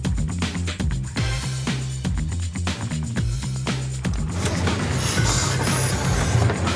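An old locomotive-hauled train rumbles past on the rails with rhythmic wheel clatter and heavy low-end thumps, joined later by a higher metallic hiss or squeal.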